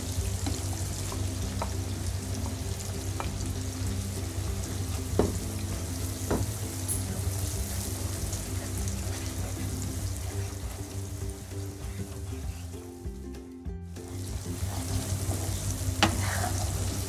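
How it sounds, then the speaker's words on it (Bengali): Onion and garlic paste fries in oil for a dried fish pickle, a steady, dense sizzle with occasional stirring scrapes and clinks, continuous and close, with no talk. "পেঁয়াজ আর রসুন বাটাটাও দিয়ে দিচ্ছি।"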